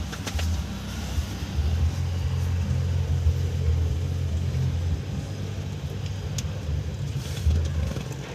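A car running again after a replaced fuel pump relay, its engine holding a steady low idling rumble close by for several seconds with slight surges and faint background chirps.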